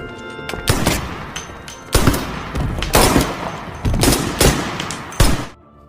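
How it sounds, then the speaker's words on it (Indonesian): Gunfire erupts in a warehouse shootout in a crime film, with a hitman opening fire on mafia men: loud, sharp bursts of shots repeat at irregular intervals over about five seconds, then cut off abruptly. "Namun John sudah lebih dulu menembaki mereka"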